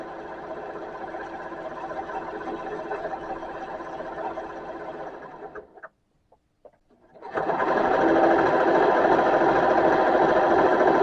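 A serger stitches a rolled hem on Thanksgiving napkins, its fast steady motor hum running for about six seconds, cutting off briefly, then resuming louder and continuous.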